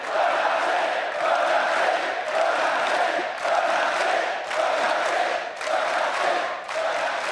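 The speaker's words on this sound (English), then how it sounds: "The cheering will go on and on." A big arena audience at an esports world championship quarterfinal cheers and chants in loud rhythmic surges about once a second, a continuous roar with no clear speech.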